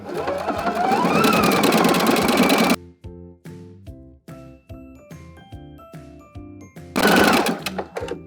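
A sewing machine stitches a decorative scalloped hem on fabric in two loud, steady runs at the start and end, with a quiet stretch of tinkling, piano-like music between them.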